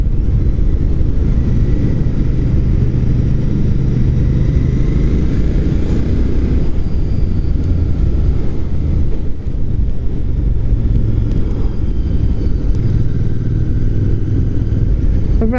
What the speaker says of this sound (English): Alright, slow riding. We're in the fourth gear, so the revs are very low